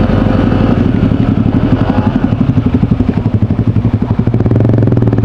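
Motorcycles ride over a rough road in Ilocos Norte, their engines chugging loudly and close in a steady pulsing rhythm, with rattling and clatter from the uneven surface throughout.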